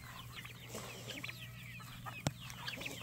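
Chickens cluck quietly at a distance in a farm yard with a steady low background hum, and one sharp tap cuts through near the end.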